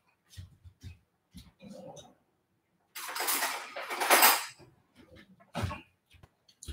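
A spoon and dishes handled in a kitchen at night: scattered light clinks and knocks, then a longer rattling scrape of crockery and cutlery, close and moderately quiet, with no talking.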